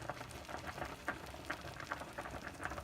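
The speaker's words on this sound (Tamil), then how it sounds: "அந்த கிரேவியோட அந்த சிக்கனை வந்து நம்ம வந்து நல்லா கொதிக்க விடணும்." Restaurant-style pepper chicken gravy simmering on low heat, with a steady soft bubbling and popping that stays even throughout and has no voices over it.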